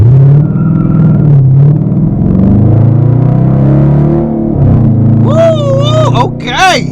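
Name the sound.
Dodge Challenger RT launching, engine revving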